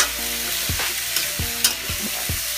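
Chicken feet frying in a pan for adobo, a steady close sizzle broken by several sharp scraping stirs and clanks, with no talking.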